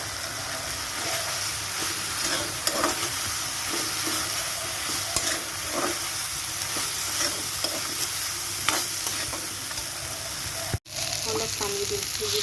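Soybean chunks hit a hot pan and get stirred, a loud steady sizzle punctuated by repeated spatula clicks and scrapes, with a sharp clunk near the end.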